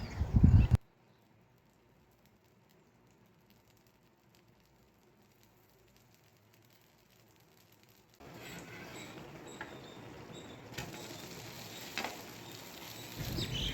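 Multigrain dosa batter sizzles on a hot pan, a soft steady crackle and hiss rising after a long quiet stretch, with a brief louder clatter at the start.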